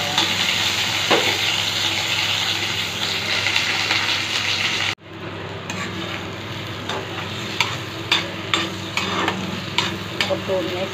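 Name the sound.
curry leaves and onions frying in oil for ridge gourd chutney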